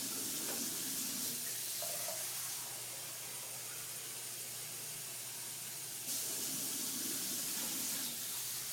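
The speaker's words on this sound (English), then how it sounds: "Now I'm going to add water." Water pouring steadily into a pot of vegetable soup with zucchini and tomatoes, a soft continuous splashing hiss that rises slightly near the end.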